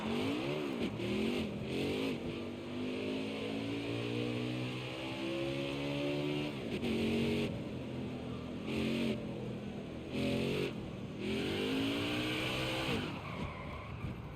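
Race car engines in the NASCAR Heat 5 video game, with repeated rising revs and gear shifts across the clip, loud and continuous, with brief gaps between acceleration runs.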